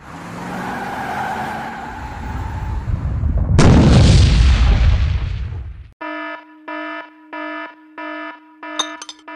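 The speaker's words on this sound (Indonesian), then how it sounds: "itu meriam utama tank" A tank's main cannon fires in an action scene as one loud, heavy boom with a long rumbling decay, following a rising roar, then a series of rhythmic electronic alarm tones.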